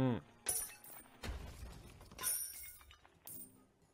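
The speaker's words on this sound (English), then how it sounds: "Pot smashing." Clay pots shatter in the video game Five: Guardians of David, with three sharp crashes spaced about a second apart, each trailing into a clatter of fragments, loud and close.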